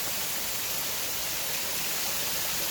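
Steady broadband rush of a waterfall close to a house deep in the forest, a constant, loud wash of falling water with no breaks or voices.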